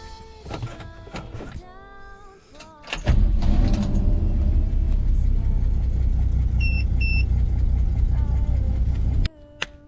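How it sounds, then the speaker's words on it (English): A car starts up after a spark plug and plug wire change: a door and clicks, then the engine catches and settles into a steady low idle near the microphone, with a few brief chimes, before cutting off abruptly. "go ahead and start your engine and make sure your car is running good"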